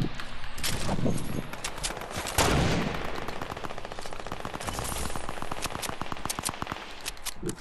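Gunfire in the video game Fortnite: dense, continuous rapid shooting throughout, with bursts of fast repeating shots and a sharp blast, loud and up close with no talk over it.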